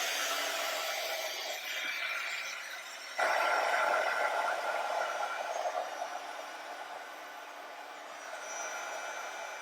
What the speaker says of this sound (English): it's going to be loud again as I heat emboss my design